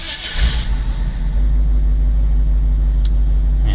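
A Chevy C10 pickup truck engine cranks briefly and catches, then settles into a loud, steady low rumbling idle heard up close, with no talking.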